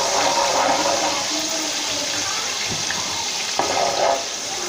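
Ginger, garlic and spices fry in oil for beef nalli biryani, a steady broad hiss and sizzle throughout with a brief stir or clink near the end.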